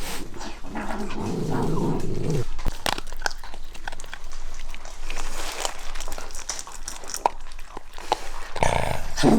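A Shiba Inu guarding its food whines and growls in drawn-out bouts close by, with faint rustling between the sounds and no talk.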